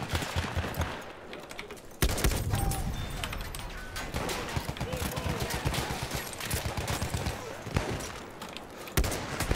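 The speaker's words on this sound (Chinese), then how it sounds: "我还贪心射了一枪" Dense gunfire in the World War I shooter Battlefield 1, with repeated loud shots and rattling bursts mixed with distant battle noise throughout, sharp impacts near and far.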